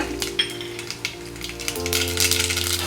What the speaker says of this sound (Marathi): आता राई तडतडल्यावर कडीपत्ता टाकून घेतला